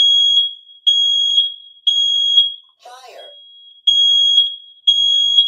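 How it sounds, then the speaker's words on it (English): A fire alarm sounds indoors in loud, piercing repeated beeps about once a second, broken briefly by a short burst of a voice. "Yes, there is a fire alarm."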